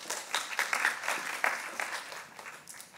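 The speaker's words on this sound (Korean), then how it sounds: "박수로 맞아주세요" An audience claps to welcome a contestant at a Korean speech contest in Toronto, a dense, even run of applause with a few sharper claps standing out.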